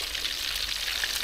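Carp and pomfret frying in a pan give a steady, close sizzling crackle without pause and with no one talking over it.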